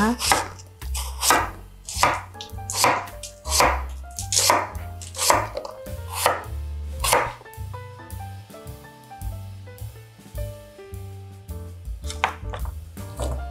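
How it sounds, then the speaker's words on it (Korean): A knife chops a large Korean radish into bite-size pieces for white kimchi, with steady, evenly spaced thuds on a cutting board that turn lighter and quicker toward the end. "큰 거를 반 정도만 썰어 넣을 거예요. 먹기 좋은 크기로 썰어줍니다."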